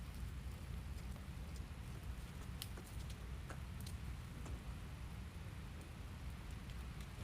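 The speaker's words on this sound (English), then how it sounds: "Y'all, there's the rain." Steady rain falls outside as a constant, even hiss of drops, with a few sharper drip ticks and no voices.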